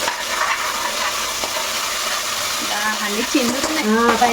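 Ginger paste sizzles and crackles in hot oil while being stirred in a pan for a vegetable coconut pulao and paneer drumstick curry, a steady close frying hiss with scraping stir sounds near the end.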